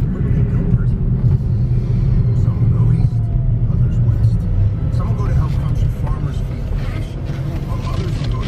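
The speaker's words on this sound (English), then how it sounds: "Just some road speed bumps there." A gray 2014 Cadillac ELR, a repairable salvage car, rumbles over road speed bumps, heavy low road and tire noise with a couple of dull thumps inside the cabin, someone talking over it.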